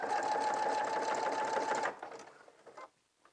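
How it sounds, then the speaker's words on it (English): Sewing machine stitching a bar tack on a lined pencil skirt, a fast steady mechanical whirr for nearly two seconds that stops abruptly, followed by a few faint clicks and handling sounds. "so I'm going to go ahead and sew a bar tack."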